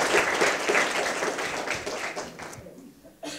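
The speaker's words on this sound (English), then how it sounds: "So one more applause to Juliet." An audience at a women-in-technology event claps for a speaker, brisk and full at first, then thinning and fading out before a brief new sound at the very end.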